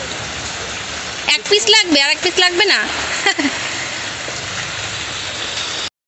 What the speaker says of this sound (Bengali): ভীষণ জোরে বৃষ্টি পড়ছিল